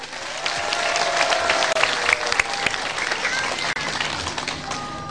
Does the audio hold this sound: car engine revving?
no